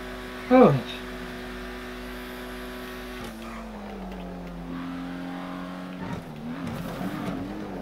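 Cars racing through traffic in the GTA V video game, one sliding sideways, with a sustained engine drone and a sharp burst near the start, a skid-like warble later, heard fairly close without speech.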